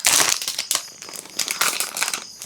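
Loud, close crinkling of plastic wrapping as a birthday gift, a Labubu figure, is unboxed, in bursts of rustling and crumpling with short pauses and no voices.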